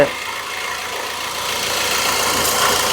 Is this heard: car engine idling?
yes